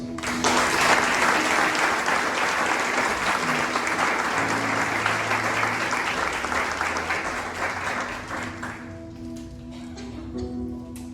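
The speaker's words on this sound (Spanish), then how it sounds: "Date un aplauso." A church congregation at a fasting and prayer meeting applauds, a loud sustained wash of clapping that fades after about eight seconds, leaving sustained instrumental tones and scattered claps.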